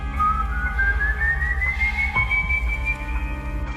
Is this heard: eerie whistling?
yes